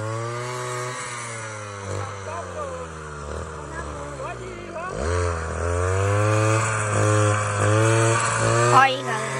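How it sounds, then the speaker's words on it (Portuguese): A grass-cutting machine chopping capim runs with a steady motor drone, its pitch dipping and surging as it bites into the grass, loud and close, with people talking over it. "Porque o Carlinhos, na hora que ele corta o capim, que a máquina vai assim"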